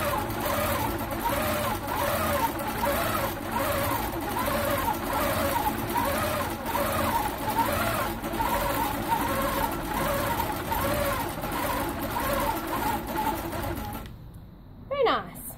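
A longarm quilting machine stitches a quilt in a wiggle-and-loop pattern, its rapid rhythmic needle chatter pulsing in regular waves for about fourteen seconds before stopping abruptly.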